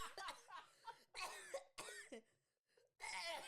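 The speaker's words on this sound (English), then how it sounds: "just coughing right in the mic is crazy" Several harsh, close coughs burst out in quick succession with short pauses between them, loud and right up against the microphone.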